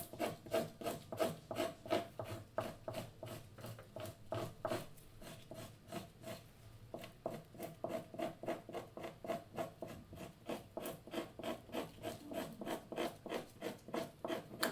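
Rhythmic scraping across a soggy, very thin skin: a long run of even, rasping strokes at a steady pace, close and moderately quiet, with no talking.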